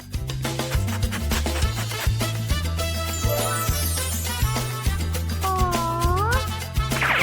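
A cartoon kitten gives a brief, rising-falling meow near the end, set against loud, rhythmic cartoon background music that plays throughout.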